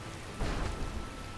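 Rain in the video game Skyrim, with a low rumble of thunder swelling partway through, steady and unbroken, with no one talking.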